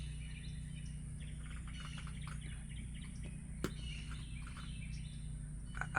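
Faint bird chirps and tweets scatter through a quiet shaded park with lots of trees, over a low steady hum, with one sharp click midway.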